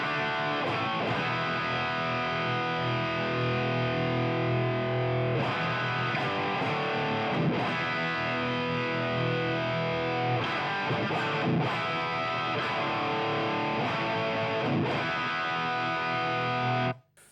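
An electric guitar plays through a Marshall Vintage Modern amp with the master volume barely open, giving a steady, dense, distorted rhythm-chord tone with a few sharp pick attacks before cutting off at the end.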